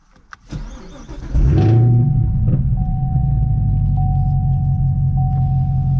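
A Chevrolet Camaro ZL1 1LE engine turns over and settles into a steady, loud idle with a deep rumble, ongoing to the end; a faint electronic tone sits alongside it.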